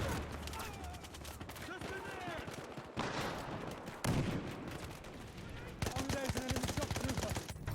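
A Model 1887 lever-action shotgun fires in Battlefield Hardline, with several heavy booming shots spaced seconds apart amid game noise, under someone talking.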